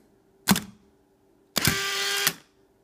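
Camera shutter set to a one-second exposure: a sharp mechanical click, then after a second a longer loud whirring burst that ends abruptly, close and with no talk.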